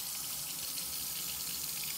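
Tap water runs steadily into a restroom sink fitted with a rubber drain stopper, a continuous close hiss and splash with no pauses.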